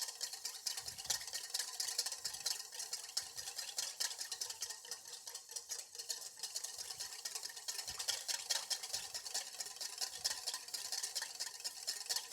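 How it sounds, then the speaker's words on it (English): Olive oil vinaigrette is whisked to emulsify it, making a rapid, continuous faint clicking and swishing in a bowl with soft irregular taps underneath. "stop and whisk so that you are able to emulsify it"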